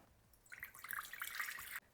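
Warm water poured into a bowl for making dough, a soft, brief trickling pour that starts abruptly, runs just over a second and stops cleanly, quiet and close.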